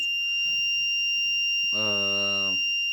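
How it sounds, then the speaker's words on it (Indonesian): An electronic buzzer on an ESP8266 sound-sensor project sounds once for about a second, a steady harmonic tone against a faint background hum with a high whine. "buzzer akan bereaksi"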